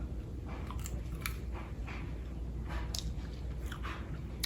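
Someone chews a freshly thinned cabbage seedling in a garden, giving soft, repeated crunchy bites close to the mic over steady background noise.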